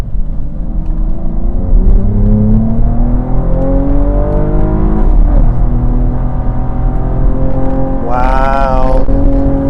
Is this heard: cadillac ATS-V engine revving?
yes